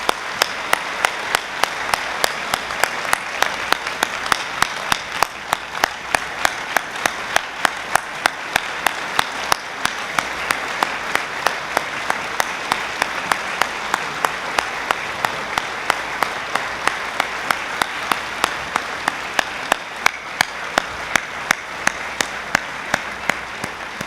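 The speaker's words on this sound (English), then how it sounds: "please join me in another round of applause for all of these inductees of" Sustained audience applause for 2018 Raleigh Hall of Fame inductees fills the hall, dense steady clapping from a large crowd holding an even level throughout with no talk over it.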